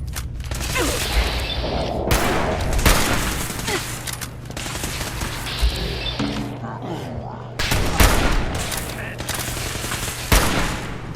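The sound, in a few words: hunting rifle gunfire in the video game Fallout 4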